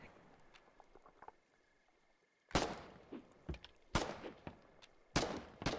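Gunfire in Foxhole cracks out in sharp, loud shots, three main bursts spaced about a second apart with smaller pops between, after a quiet stretch of faint background clicks.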